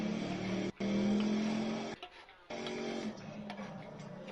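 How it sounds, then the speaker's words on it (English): A NASCAR video game race car engine drones loud and steady from game audio, with a few abrupt cutouts and brief drops before it resumes at full roar. "Why do I hear a car?"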